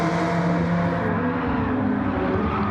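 Race car tires on track at a SARCAR round, a Mercedes braking hard into a corner, heard as a loud, steady roar of engine and tire noise with a slight pitch shift as the car passes close by.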